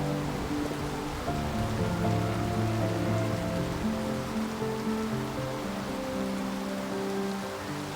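Rain falls on a river in Glasgow, a soft, steady patter and wash over running water, faint and continuous, with some tonal background music and no voices.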